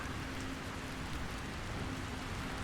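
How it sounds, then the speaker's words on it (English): Steady rain falls in a video game, a continuous dense hiss of drops with even, soft intensity throughout and no voices. "Like even in this video game, listen to the rain."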